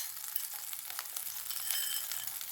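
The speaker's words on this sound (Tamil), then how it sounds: "கொஞ்சோண்டு இஞ்சி வதக்கிக்கிட்டு" Ginger sautés in a pan for guava chutney, giving a steady, soft hiss of sizzling oil with faint stirring scrapes. No voices.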